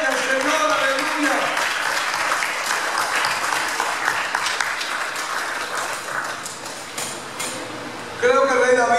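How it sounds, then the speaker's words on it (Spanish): A church congregation claps loudly in praise during a Spanish-language service, a sustained burst of dense applause that gradually thins. A voice speaks near the end. "Denle un aplauso fuerte al Señor, aleluya."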